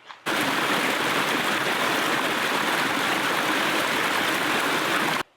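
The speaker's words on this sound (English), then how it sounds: "There's this real nice like babbling brook right here." A small babbling brook at a secluded trailhead rushes and gurgles steadily up close, a constant broadband wash of water that starts abruptly and cuts off just as suddenly, with no voices.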